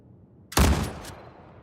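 A single sharp, loud shot rings out in the video game Star Citizen, breaking a quiet background, with a short crackling tail fading over about half a second.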